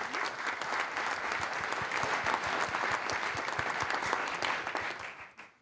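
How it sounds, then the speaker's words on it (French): An audience at a climate round-table event applauds the panel speakers. Dense, steady clapping from many hands fills the room and fades out at the end, with no talk over it. "Je crois qu'on peut déjà toutes et tous les applaudir pour ça."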